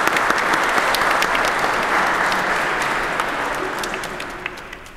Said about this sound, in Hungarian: Ferenc, tapsot mindenképpen.